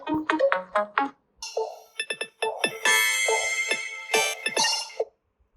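A Nothing Phone 3a Pro glyph ringtone plays a quirky sequence of clicky, chiming synthetic tones, bright and close, ending abruptly.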